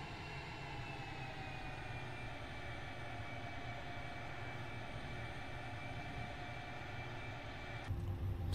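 British Airways A319 taxiing in a flight simulator, a faint, steady whining engine drone with sustained tones and a low rumble, unchanging until a slight shift at the very end.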